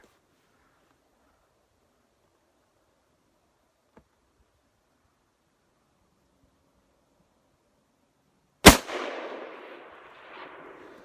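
A single loud gunshot from a Mosin-Nagant 91/30 rifle cracks out after a long quiet stretch, followed by a fading outdoor echo and rustle.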